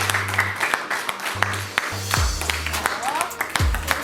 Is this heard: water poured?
no